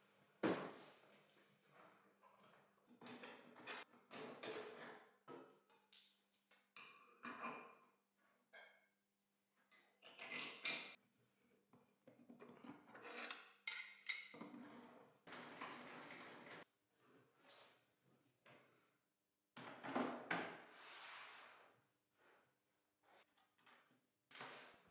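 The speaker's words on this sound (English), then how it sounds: "I'm going to change the saw blade." Saw blade being changed on a table saw: scattered faint metallic clinks, taps and brief scraping clatters with quiet gaps, close up in a quiet workshop.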